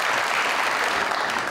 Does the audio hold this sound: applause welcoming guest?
yes